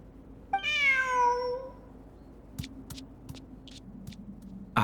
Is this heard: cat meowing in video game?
yes